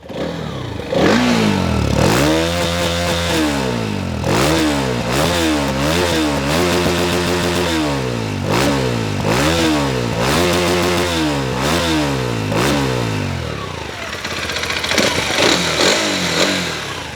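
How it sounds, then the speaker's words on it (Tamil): A 300 cc TVS Apache motorcycle with a dual-barrel exhaust is revved up close, its engine rising and falling in about eight sharp throttle blips, each followed by a quick drop back towards a rough idle. "நான் லைட்டாக ரெவ் பண்ணி காட்டுறேன்."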